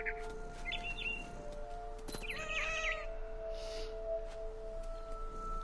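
A person imitates a cat's meow beside a finch, giving a short nasal mewing call in the middle of the clip, with brief bird chirps and a faint steady hum around it.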